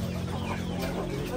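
Chickens cluck steadily and close by in a farm setting where fermented chicken feed is being made, under a dense, constant background hum and noise with no speech.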